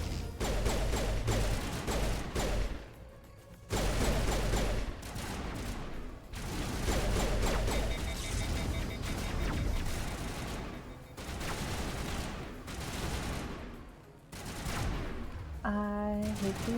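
Rapid bursts of gunfire in the video game Mass Effect, with a sniper rifle among the weapons, dense and loud with short pauses between volleys and a faint mechanical chime near the end.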